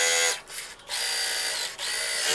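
A freshly serviced and oiled sewing machine runs at speed, a steady high mechanical whirr with two brief dips where it slows, close and alone.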